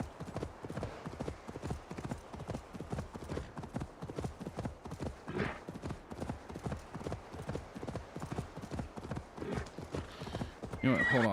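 Rapid rhythmic hoofbeats of a galloping horse in the video game Assassin's Creed Valhalla fill the clip, with a whinny partway through and brief talking layered over the steady clopping.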